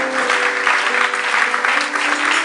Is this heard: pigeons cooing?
no